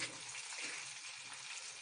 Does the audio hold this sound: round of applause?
no